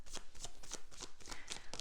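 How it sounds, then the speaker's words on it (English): Tarot cards being shuffled by hand, a close, steady run of papery riffling bursts repeating roughly every quarter second, alone without any talk. "We're now shuffling tarot cards."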